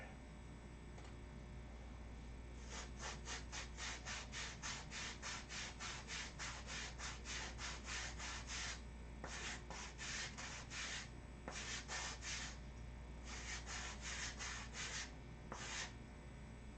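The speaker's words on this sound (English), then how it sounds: "So I gotta sand this flat here first." Hand sanding a piece flat, with rapid rhythmic back-and-forth scrapes in several bursts separated by short pauses, close and fairly quiet over a low steady hum.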